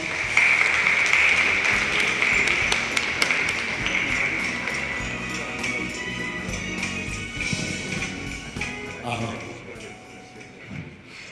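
Conference audience applauding to welcome a company CEO onto the stage, with sharp individual claps over a sustained ringing tone that fade toward the end.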